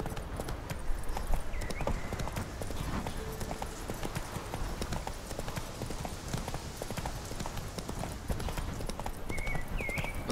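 Roach the horse galloping in The Witcher 3, a steady rapid clip-clop of hooves running throughout, close and continuous, with faint background sounds over it.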